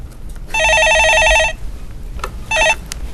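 A telephone rings for an incoming call on a live stock-market call-in show. A loud electronic ring lasts about a second, then a short second burst follows over low background hum, with no voices.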